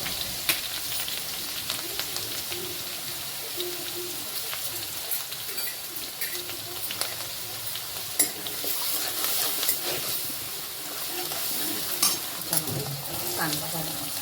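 Onion sautéing in a pan for pav bhaji, a soft continuous sizzle with occasional scraping stirs and small pops, fairly close and moderately quiet.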